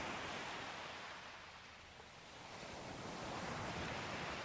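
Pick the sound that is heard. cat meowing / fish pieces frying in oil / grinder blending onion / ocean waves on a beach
ocean waves on a beach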